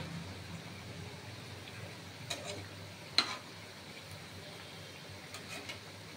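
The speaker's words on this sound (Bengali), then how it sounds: "আস্তে আস্তে ভাজা করছি।" Sarbhaja, a Bengali cream-layer sweet, frying slowly in a pan, a faint, steady low sizzle with a few soft clicks and one sharper tap, close by and with no voices.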